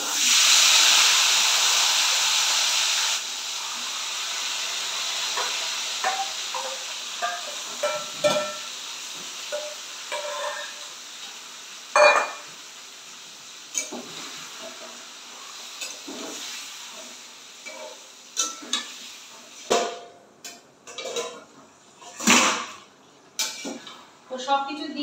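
Meat coated in spices is sautéed in a pan tempered with cumin, bay leaf and garam masala. A loud sizzling hiss at first settles into quieter frying, broken up by repeated clanks and scrapes of a spatula against the pan.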